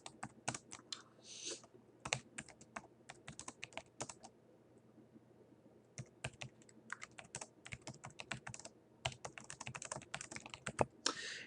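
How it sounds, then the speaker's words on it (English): Bursts of typing on a computer keyboard while entering a spreadsheet formula, rapid clicking keystrokes in clustered runs separated by short pauses, close and fairly loud with no talking. "I'm going to go ahead and type this out so that you guys can see it as I say it out loud"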